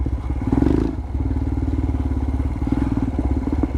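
A Royal Enfield Himalayan motorcycle with an aftermarket Lextek exhaust idles with a rapid, throaty exhaust pulse, close by, with a brief rev blip early on.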